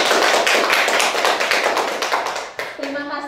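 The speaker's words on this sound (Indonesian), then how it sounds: "Luar biasa, tepuk tangan dulu." A classroom audience gives a dense burst of hand clapping that holds steady and then fades out, with a voice speaking briefly as the applause ends.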